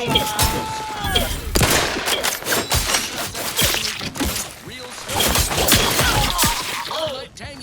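A wrist-mounted weapon fires in the sci-fi video game The Outer Worlds 2, giving dense volleys of sharp shots, crackling blasts and impacts amid a chaotic battle. Voices and game speech run through the gunfire.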